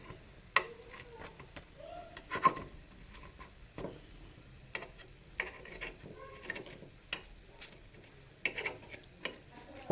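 Mixed-dal appe, made with ration rice, fry quietly in a little oil in an appe pan after being flipped, with soft, scattered crackles and occasional clicks over a faint background.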